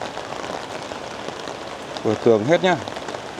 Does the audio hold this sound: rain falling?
yes